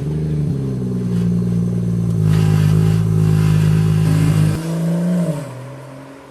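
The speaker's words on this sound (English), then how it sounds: "Here's a 7:30 in the morning cold start video that I got the morning after I filmed the car." A 2017 BMW M140i idles on a cold morning start, a steady, close engine drone with a brief rise in revs and a drop as it settles lower near the end, with no talking.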